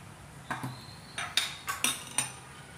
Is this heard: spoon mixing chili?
yes